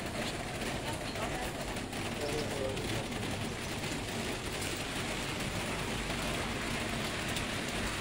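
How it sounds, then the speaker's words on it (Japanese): Heavy rain pours steadily on a walk through Jiufen, Taiwan, amid mist, a dense continuous hiss of drops spattering on surfaces all around, loud and unbroken throughout. "めっちゃ雨。"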